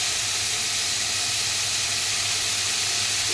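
Pointed gourd (kakrol) and potatoes frying in a little oil, a constant close, even hiss and sizzle with a low hum underneath and no talking.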